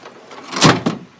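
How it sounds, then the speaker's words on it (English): A door on a custom coach-built vehicle from the early 90s is opened and then shut, giving a hollow rushing swing followed by a quick second thud, loud and close with no talk. "let me open this door and shut this one"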